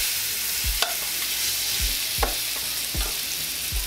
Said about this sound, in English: Again, let's get a nice sear on these.